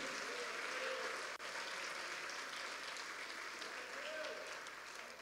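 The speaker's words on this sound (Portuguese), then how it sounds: "dá uma salva de palmas para Jesus, igreja" Sustained applause from a church congregation, a dense steady wash of clapping that holds at even level throughout and fades slightly toward the end.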